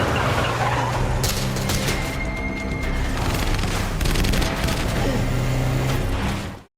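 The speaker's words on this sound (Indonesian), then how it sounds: "Namun sayangnya, Davis terkena tembakan." Bursts of gunfire during a film car chase, loud and continuous over a roaring, dense background with crashes and impacts throughout.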